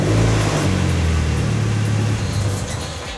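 A Mazda Miata engine with its intake removed revs loudly and close up, a rough, throaty drone that holds steady and then falls away near the end.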